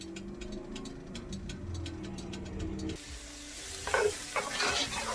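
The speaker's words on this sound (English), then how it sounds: "we're going to get those tomatoes in there. We're going to char them really well." Tomatoes charring in a hot pan: a steady close sizzle and hiss, with scraping stirring sounds growing louder near the end; no talking.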